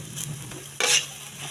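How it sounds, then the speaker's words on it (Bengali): Onions frying in a pan for a spicy jackfruit seed mash, a soft crackling sizzle with light stirring and one brief louder scrape of a utensil partway through. "একটু পেঁয়াজটাকে ভেজে নিলাম আর কি"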